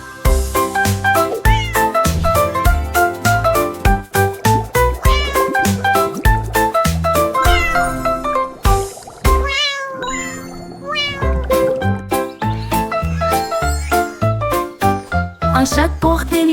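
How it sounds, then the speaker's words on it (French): A cat meows repeatedly over a busy, bright musical backing with tinkling sounds, the meows rising and falling in pitch, loud and near. "Il plissa les yeux, cligna des yeux, puis laissa échapper un miaulement."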